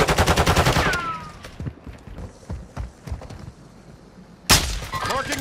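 Rapid bursts of gunfire from the Call of Duty battle royale in Al Mazrah, with a loud automatic volley at the start, scattered shots through the middle and another sharp burst near the end.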